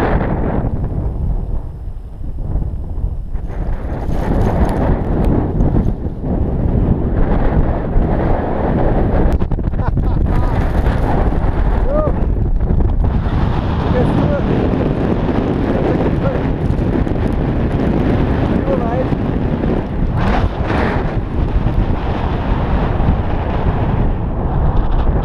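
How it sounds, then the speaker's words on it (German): Strong wind buffets the microphone on the summit of the 3472 m Seelenkogel above Pfelders, a loud continuous roar with gusty surges throughout. "Der Wind geht, es wird kühler."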